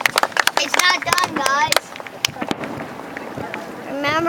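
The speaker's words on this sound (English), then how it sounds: "Could you imagine being over there and hearing all those booms going off?" Fourth of July fireworks boom over the bay at Harbor Springs in a series of sharp bangs and crackles, mixed with nearby children's voices and chatter among onlookers.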